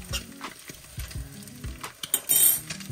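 Ginger and garlic sizzle in a little hot oil in a home kitchen pan, with crackling bursts, stirring scrapes and light utensil clinks over a few seconds, close and fairly loud.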